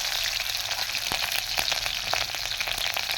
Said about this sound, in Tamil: கடுகு பொரிஞ்சிடுச்சு